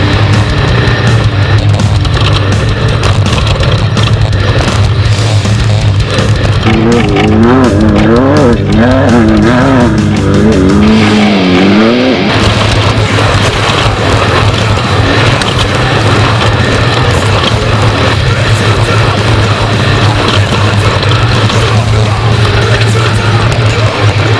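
A 1600 class off-road race car at the SNORE Rage at the River race runs loud and close throughout, its engine revving and droning continuously, with pitch rising and falling through shifts and terrain.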